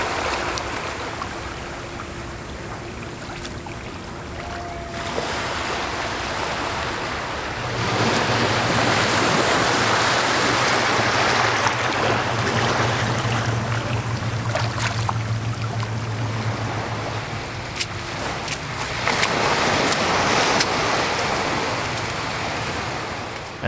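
Ambient ocean waves captured on a RØDE Stereo VideoMic X, a steady broadband wash of surf with swelling surges and a low rumble, continuous with no talk.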